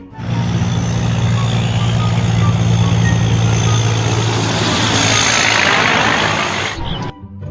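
A large container truck's engine rumbles close by while a high reversing beep repeats in a steady rhythm, fading out at the end.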